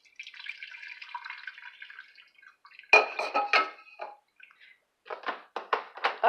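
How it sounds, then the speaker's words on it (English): A cup of water poured into a chicken casserole in a kitchen, a steady close trickle followed by splashy drips and sloshing bursts, with no one talking. "I'm just going to add 1 cup of water to it."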